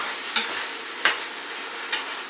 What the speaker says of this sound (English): Right, give the pasta a mix.